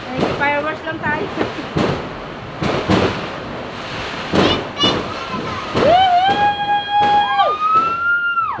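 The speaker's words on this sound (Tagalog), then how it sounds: "Ay, fireworks lang tayo." Repeated loud fireworks bangs and crackles, with whistling rising tones and people cheering and talking over them.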